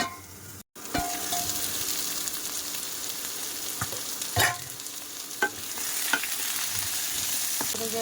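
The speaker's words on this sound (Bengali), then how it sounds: "কষাই কিন্তু খুব ভালো করে করে নিয়েছি" Food being sautéed and stirred in a pan with oil: a continuous sizzle broken by a short silence near the start, then several sharp spatula scrapes and knocks against the pan.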